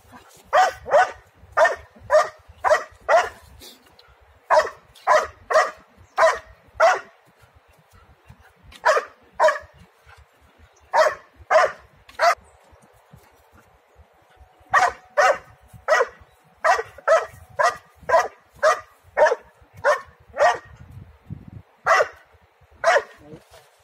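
A 12-month-old dog barks in rapid bursts of three to five sharp barks separated by short pauses, loud and close, continuing steadily throughout IGP protection-work bark training.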